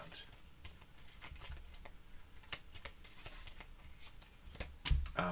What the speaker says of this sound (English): we're going to do is we're actually going to go ahead and shuffle up the goals and deal 3 of them out